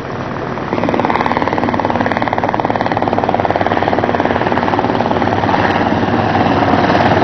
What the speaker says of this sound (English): this is a national champion flying this plane right here